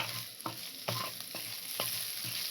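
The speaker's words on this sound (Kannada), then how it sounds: "ನಾನೊಂದು ಕಟ್ ಮಾಡಿರೋ ಕ್ಯಾಪ್ಸಿಕಮ್ನ ಹಾಕೊತಾ ಇದ್ದೀನಿ ಹಾಕೊಂಡು ಇವಾಗ ನಾನು ಇದನ್ನ ಫ್ರೈ ಮಾಡ್ಕೊತೀನಿ" Chopped capsicum frying in a pan, a steady close sizzle with a few sharp clicks and scrapes of stirring at irregular intervals, no talking.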